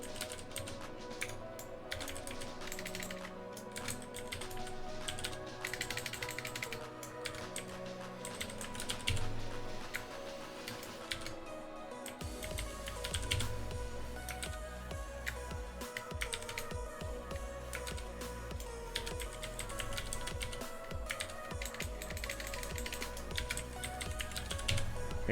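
Fingers type a username and password on a computer keyboard, rapid irregular key clicks running in bursts throughout with a short pause partway, close and clear with no talking.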